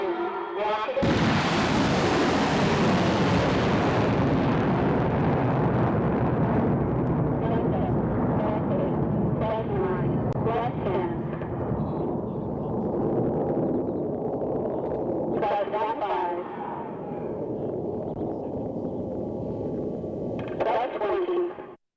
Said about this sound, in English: And this is the main rocket motor. It's called the Black Grant. And this is the booster. 3, 2, 1, rocket.